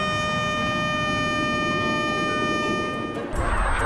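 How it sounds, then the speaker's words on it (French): A foghorn blast used to wake someone holds one loud, steady, brassy tone for several seconds before breaking into a burst of rough noise at the end. "Pourquoi est-ce qu'on ne la réveille pas avec une corne de brume?"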